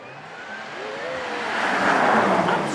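A Porsche Taycan electric car with two motors and 680 horsepower accelerates on a track at a supercar weekend, a rising electric whine and rushing roar building louder, no engine note, close by.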